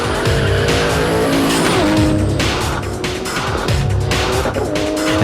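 A Godzilla Motorsport R32 GTR launches at a drag strip on Mickey Thompson street radials, its engine blaring loudly up close. Tyres squeal and skid beneath the constant roar throughout.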